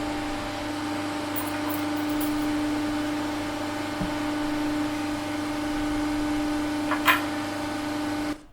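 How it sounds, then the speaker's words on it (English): Generated kitchen fan hum with subtle Foley sounds: a steady tonal drone throughout, broken by a few faint clicks and a brief light clatter near the end. "it's selected a sort of fan that may be part of that kitchen scene and some subtle Foley sounds"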